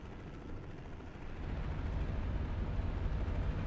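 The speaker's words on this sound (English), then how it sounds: "We've got a helicopter there as well." Helicopter in Euro Truck Simulator 2 hovering near a closed motorway, a low rumbling rotor drone that swells from moderate to louder after the first second and holds steady, with no talk over it.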